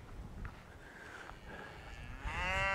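Cattle, including steers, moo on a farm as collies taunt them; several drawn-out low moos rise and fall, and a louder, nearer bellow swells at the end.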